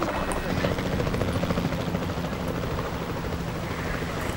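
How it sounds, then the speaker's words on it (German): A helicopter in the video game Jurassic World Evolution 2 drones with a steady, loud rotor throb, shaking as it hovers, with faint talk underneath. "Gott, wie der Hubschrauber zittert."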